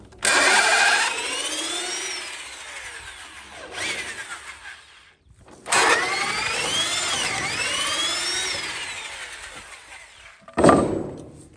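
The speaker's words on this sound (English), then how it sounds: "what I have right here is my drill, and what I'm going to do, start taking this apart" A power drill backs screws out of an old wooden door so the wood can be reused for a chicken run door, in rising and falling whirring bursts with short pauses between them.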